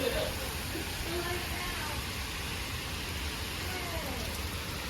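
Heavy rain hisses down continuously during a severe thunderstorm, a dense steady wash of noise recorded from close by with no distinct thunderclaps, and some faint voices buried under the downpour.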